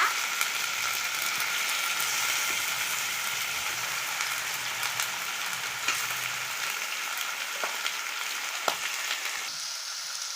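Marinated chicken with two spoons of fresh ginger garlic paste fries in a pan for gongura chicken biryani, giving a steady, close, hissing sizzle with occasional pops and crackles that runs unbroken and without talk.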